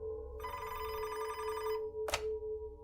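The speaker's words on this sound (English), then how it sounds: "Gerzib's phone rang at his desk, so he answered it" A desk telephone in a detective's office rings with a steady electronic bell tone for over a second, then gives a short second burst after a brief pause.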